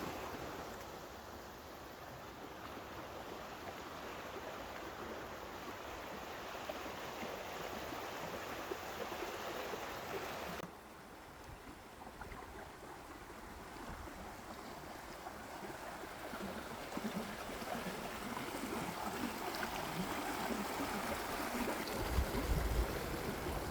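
Flowing river water in the Aksu-Zhabagly nature reserve, a steady broadband rush that runs continuously at moderate level, with a slight dip partway through before swelling again.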